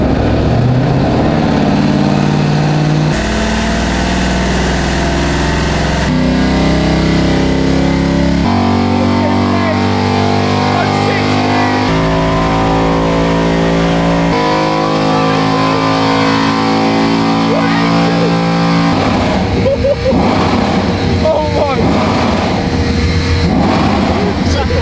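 A tuned Mercedes C63 engine on a dyno run. The loud, continuous engine note climbs steadily through the gears with a rising pitch, and the pull ends in rough, crackling revs near the finish.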